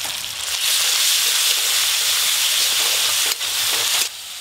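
Chopped onion and tomato with chili paste, turmeric and salt fry in a pan, a loud steady sizzling hiss that briefly dips and then drops lower near the end.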